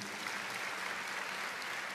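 A church congregation applauds at a sermon, with dense, even clapping throughout and no other voices.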